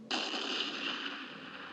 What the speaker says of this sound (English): Let's hear the explosion.